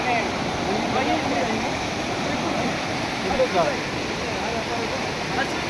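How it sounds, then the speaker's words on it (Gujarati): Water from a stream pours continuously over the Kunduvalo waterfall at the source of the Valva river in Gujarat, a steady broadband rush close to the listener with no pauses. "આ પાણી છે વહેન જાય છે"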